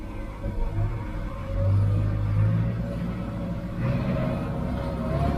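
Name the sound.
vehicle driving up a muddy cut road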